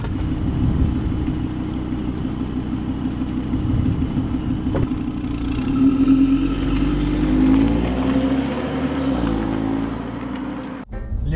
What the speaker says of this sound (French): Les premiers tours de roue dans une Audi RS3 sont assez confortables et assez plaisants